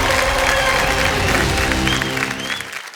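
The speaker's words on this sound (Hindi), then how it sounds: "एक बार फिर तालियों के साथ आपका हमें अभिनंदन करते हैं" Studio audience on the KBC game show applauds in a full, continuous burst of clapping over a sustained musical tone, tapering off at the end.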